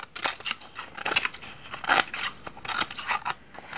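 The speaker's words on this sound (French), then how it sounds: "je coupe tout autour." Scissors snip their way around a cardboard tube being made into a Christmas tree decoration, giving a run of close, crisp cutting crackles in uneven bursts with short pauses between them.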